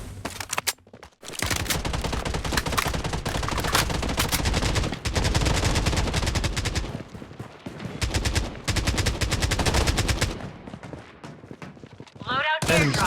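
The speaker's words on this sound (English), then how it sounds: "I'm under heavy fire." Dense, sustained gunfire from the shooter game Blood Strike in ranked play, with rapid automatic bursts and heavy volleys filling nearly the whole stretch, brief gaps between exchanges and in-game voice callouts mixed in.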